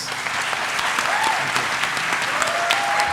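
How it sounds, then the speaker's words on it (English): Steady applause from a crowd at a fireside-chat talk, continuous clapping filling the room for a few seconds with no pause. "can we get a round of applause for Mohamad, please?"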